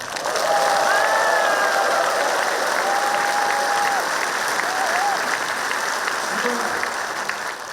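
Dense, sustained applause fills a large hall at the launch ceremony of Gangwon Special Self-Governing Province, loud and steady throughout. A few faint tonal notes rise through the clapping, and it fades slightly toward the end.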